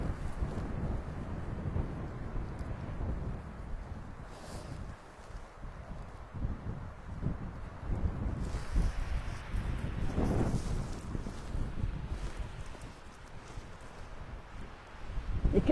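Wind buffets the microphone on Findhorn Beach with a low, rumbling roar that swells and gusts throughout, loud and close, with no voices.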